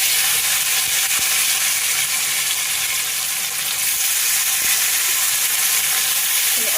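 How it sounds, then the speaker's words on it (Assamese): Tomatoes fry in a pan for matar paneer, giving a steady, close, loud sizzle that holds evenly throughout with faint stirring clicks and no talk. "আগতে টমেটৰখিনি অকণমান ভাজি ল'ম"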